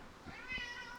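A house cat lets out a single soft, drawn-out meow, faint and close in a quiet room with no one speaking.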